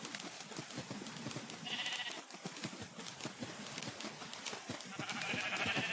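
Sheep bleat repeatedly in the video game Minecraft, several short nasal calls overlapping with other farm animal sounds and a faint high game tone, steady and close with no talking.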